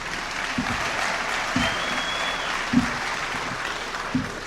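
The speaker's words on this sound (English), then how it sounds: "So a great, big applause for them" A hall audience at a Medford mayoral debate applauds the Friends of Chevalier Auditorium and the GMAC Gym, with dense continuous clapping filling the room at an even level and a few heavier thumps underneath.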